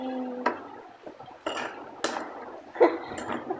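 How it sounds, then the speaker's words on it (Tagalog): Ice cubes dropping into a glass of melon juice, a few separate clinks and knocks spaced over a few seconds, close and fairly loud against a quiet kitchen background. "Kung nakuha ko ng ice, lagyan na natin."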